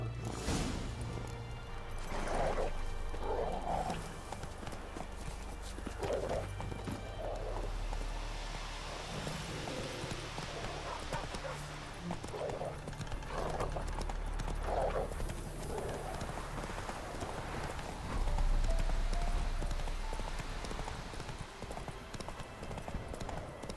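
A horse clip-clops steadily across the ground in The Witcher 3, the hoofbeats fairly close and regular and carrying on for the whole stretch, with soft background ambience and no talking.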